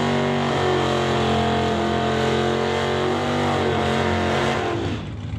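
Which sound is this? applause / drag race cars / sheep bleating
drag race cars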